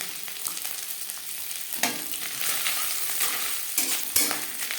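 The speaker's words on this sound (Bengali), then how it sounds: "তিন চামচ সর্ষার তেল গরম করে নিয়েছি এবার দিয়ে দেবো নারকেল কুচি" Grated coconut frying in hot mustard oil as filling for vegetable chops, a close crackling sizzle broken by sharp stirring scrapes and taps, with no voices.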